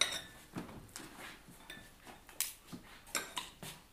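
Plates and cutlery clink and clatter in a home kitchen while blood spaghetti with spinach is served onto flat plates, a series of sharp, bright knocks and chimes at an irregular pace, near and fairly quiet, with no talk.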